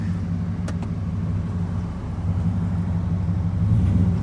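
Tow truck in four-wheel drive high moving under its own power, a low steady engine rumble close by with slight swells, no talk.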